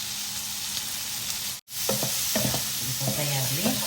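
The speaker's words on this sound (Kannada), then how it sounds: "ಫ್ರೈ ಆಗಲಿ" Prawns fry in butter with pepper, coriander and green chilli in a pan, giving a close, steady sizzle. After a brief dropout, spoon scrapes and clatters from stirring join in, with no talking.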